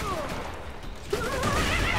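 Rapid gunfire in Borderlands 2 four-player co-op, loud continuous shooting with game effects layered over it and a sharp burst about halfway through.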